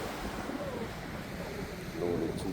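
Strong winter wind blows across the coast at Daebudo at sunset, a steady, fairly faint roar of rushing air and microphone buffeting that strengthens slightly near the end.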